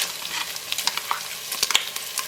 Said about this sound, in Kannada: ಇದನ್ನು ಸ್ವಲ್ಪ ಹೊತ್ತು ಚೆನ್ನಾಗಿ ಫ್ರೈ ಮಾಡುವ ಈ ತುಪ್ಪದಲ್ಲಿ